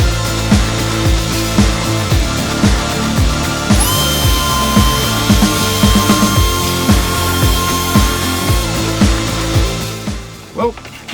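A power sander works heavily over a wooden toy chest, a loud, steady mechanical whine with a rhythmic pulsing hum close by, briefly rising in pitch midway before easing off at the end.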